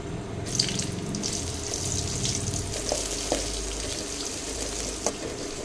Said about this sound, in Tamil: வெங்காயம் வந்து வதங்கட்டுங்க